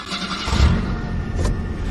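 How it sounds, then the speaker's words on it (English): An engine turns over and starts with a short cranking burst, then settles into a low running rumble, loud and close. "Let's fire up that engine, shall we?"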